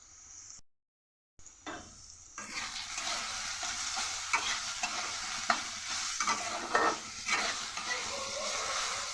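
Spices, salt and turmeric, frying in hot oil in a pan as a breakfast-to-lunch dish is cooked, giving a steady sizzle with intermittent stirring scrapes after a brief silent gap at the start.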